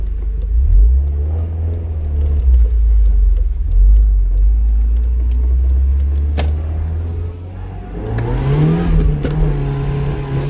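Engine of a Mercedes SLK230 R170, tuned to 230 hp, rumbling low and steady while driving, then revving up sharply near the end; loud and close with no talk over it.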